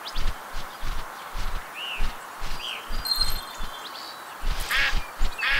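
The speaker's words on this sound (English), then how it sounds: "Okay, John Luke, let's hunt some ducks" Ducks quack in the Duck Dynasty hunting game, a few scattered calls over soft rustling and a rhythmic low thumping, with faint chirps near the end.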